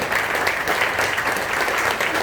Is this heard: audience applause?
yes